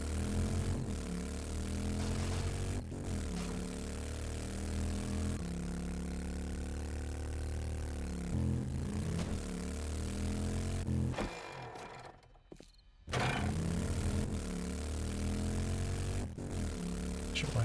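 A helicopter engine in the survival video game 7 Days to Die drones steadily and loudly, a dense rotor hum that drops away briefly near the end before surging back.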